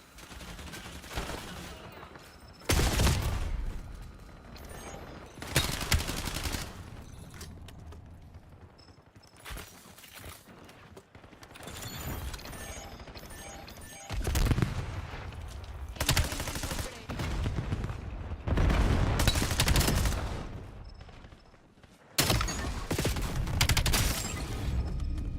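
Rapid bursts of automatic gunfire and single shots ring out in Call of Duty: Black Ops 7 multiplayer, in repeated loud volleys separated by short lulls.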